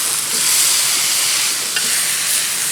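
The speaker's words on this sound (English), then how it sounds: "Trying to get a good sear going on that." Steak searing at high heat on a Blackstone flat-top griddle, giving a steady, loud broadband sizzle and hiss that runs without pause, with one brief scrape or tick near the end and no voices.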